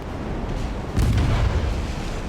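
A naval torpedo hit explodes against a battleship in the Ultimate Admiral warship game, a deep rolling boom that swells out of a constant low rumble and fades slowly.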